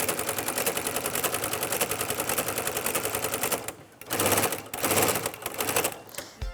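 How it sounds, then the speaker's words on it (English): A sewing machine with a ruffler foot set to pleat every six stitches runs in a fast, steady mechanical rattle for about four seconds. It pauses, then comes back in two shorter bursts, loud and close. "Put your presser foot down and you just start stitching."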